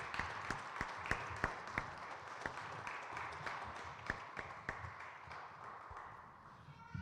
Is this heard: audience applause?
yes